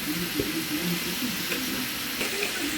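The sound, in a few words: sautéing vegetables in ghee with curry leaves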